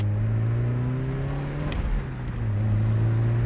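Porsche 924S engine heard from inside while driving on a road, a steady low drone with a brief dip in revs before settling back into a constant tone.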